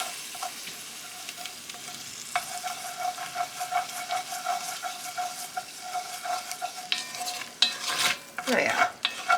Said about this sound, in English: Just use your spoon, put it on the pan, and incorporate those bits.